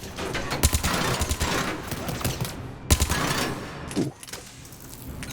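Enemy gunfire in Mass Effect 3 at Grissom Academy, rapid bursts of shots crackling in clusters around brief talk, with a loud volley near the middle.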